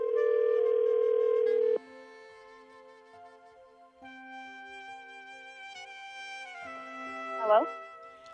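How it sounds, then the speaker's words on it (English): A landline telephone gives a steady dial tone, cuts off, then tonal dialing and line tones follow as a call is placed, with a brief louder burst near the end. "We're going to dial her up."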